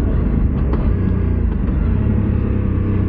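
Aprilia RS 457 motorcycle engine running steadily and loud at close range, a continuous low rumble with slight rises hinting at upshifts through the gears, no voices.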